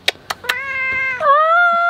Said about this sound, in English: I see your broken meow, Mr. Meow Man.